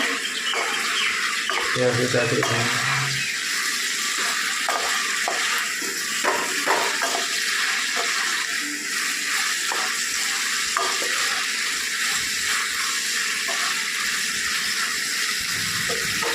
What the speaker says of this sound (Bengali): আমি চিকেনটা দিয়ে দিলাম। দিয়ে একটু নাড়াচাড়া করে নেব।